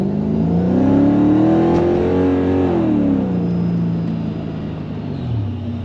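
A Mercedes CLK55 AMG with a supercharged M113K engine accelerates hard from inside the cabin, its engine tone climbing through the gears, loud and close, then easing off into a steady cruise.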